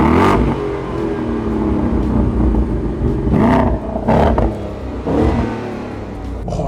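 Ford Mustang Dark Horse V8 heard from inside in cold winter conditions, engine revving in several rising bursts with sharp crackling pops and bangs between them, loud and close.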